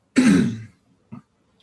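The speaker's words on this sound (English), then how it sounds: "I keep coughing." A single harsh throat-clearing cough bursts out close to the microphone, followed about half a second later by a short, quieter second cough, then silence.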